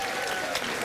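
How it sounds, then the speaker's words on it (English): A late-night talk show studio audience applauds in a dense, continuous wash of clapping, loud and close, with no speech over it. "Thank you, completely genuine studio audience, for your completely believable applause"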